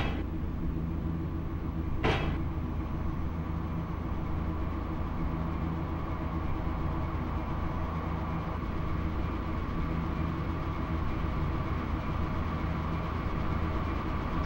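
A JR Shikoku 8000 series express train departing in Densha de Go! Professional 2, a steady low rumble and hum of rolling stock with a single sharp clack near the start.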